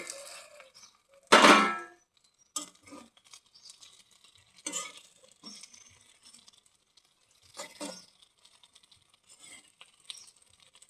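A lid is lifted off a cooking pan of meat with borboti beans: a sharp metallic clatter near the start, then scattered lighter clinks and scrapes with quiet gaps between.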